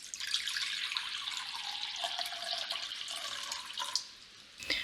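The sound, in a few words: filling a bowl with water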